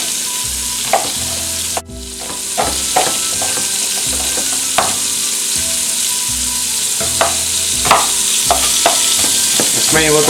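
Venison pieces for goulash fry in a hot pan with a steady, close sizzle, broken by regular scraping knocks as the meat is stirred and spread out, with no talking.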